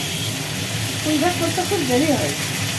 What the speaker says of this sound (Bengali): ঢাকনা তুলে একটু নাড়াচাড়া করা হলো